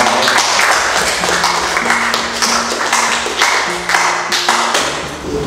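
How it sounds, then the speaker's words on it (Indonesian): Schoolchildren in a classroom clap in a loud, rhythmic burst of applause that runs for several seconds, with a sustained tone beneath it. "Tepuk tangan."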